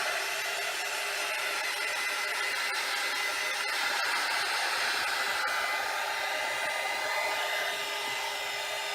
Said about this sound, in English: I'm using the dryer now.